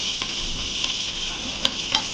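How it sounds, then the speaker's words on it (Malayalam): Sliced onions hiss and sizzle as they go into hot coconut oil for a beef roast, a steady bright frying hiss with a few sharp crackles and spits, close by and fairly quiet, with no voices. "അപ്പോൾ വെളിച്ചെണ്ണ ചൂടായിട്ടുണ്ട്. അപ്പോൾ സവോള ഞാൻ ഇട്ട് കൊടുക്കാനായിട്ട് പോവാം."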